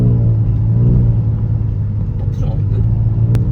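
A Kia Stinger in sport mode accelerates, a steady deep engine rumble heard from inside the cabin, loud and close, with people talking over it.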